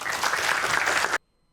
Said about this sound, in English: Do not give me an applause for that